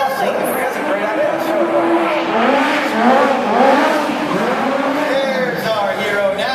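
Stunt show hero car driving out at a Hollywood Studios extreme stunt show, engine revving and whining with a tire squeal, heard amid crowd noise and an announcer's voice.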